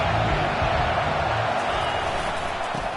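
A stadium crowd in a college football video game roars steadily and loudly throughout, a broad unbroken wash of cheering with no clear breaks.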